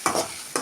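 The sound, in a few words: stirring grated raw mango in a pan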